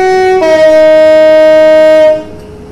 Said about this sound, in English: And we are driving an 8-car train.